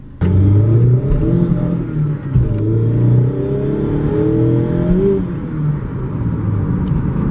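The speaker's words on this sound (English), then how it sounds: "So here we are going out onto the road right here. We'll get a little acceleration clip for you." A 2016 Mazda MX-5 Miata Grand Touring accelerates on a wet road, its engine note climbing steadily through the gears with clear rising harmonics, loud and close from inside the car with no talking.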